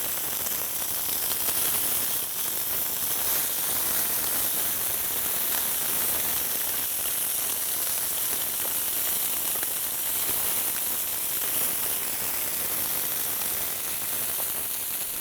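Scallops sear and sizzle in a hot frying pan with olive oil, a steady, dense hiss that runs evenly throughout without pause.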